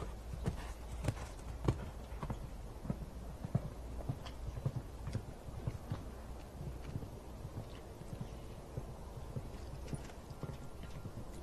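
Show-jumping horse at the Toyota Shongweni World Cup, hooves striking the ground on every canter stride in a steady rhythmic clip-clop, close and distinct over faint arena ambience.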